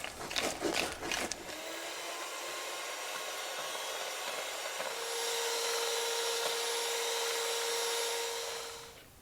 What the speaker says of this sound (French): On va commencer par mélanger un peu tout ça avant de le monter au batteur